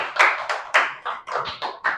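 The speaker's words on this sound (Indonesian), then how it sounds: "tepuk tangan lagi sekali lagi" A handful of people in a classroom at a teacher-training presentation clapping hands, about eight sharp, close claps in a loose uneven rhythm, with no talk over them.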